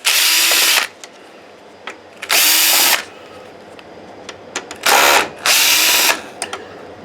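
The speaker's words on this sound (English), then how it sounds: "So these screws come out." A power drill backs screws out of a JVC DLA-RS40 projector's circuit board in four loud, close bursts of whirring, separated by quiet gaps with small clicks and taps of handling and no talking.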